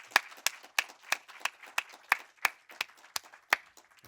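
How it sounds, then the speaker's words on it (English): Sparse, evenly spaced handclaps at an evening film screening honoring the directors, about a dozen sharp claps in a slow steady rhythm with little crowd noise underneath. "let's have a big round of applause for all three of the filmmakers."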